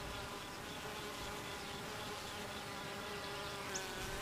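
Honey bees inside the hive, a continuous low droning buzz of many wings that holds steady throughout, close and even, with no voices.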